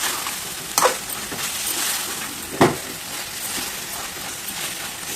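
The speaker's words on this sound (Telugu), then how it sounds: "బాగా మసాలా అంతా కూడా బాగా వేగాలి గమగమ స్మెల్ వచ్చే వరకు బాగా వేయించుకోండి" Masala spices frying and sizzling in a pan for an egg and leafy greens biryani, a steady loud hiss with two sharp stirring scrapes.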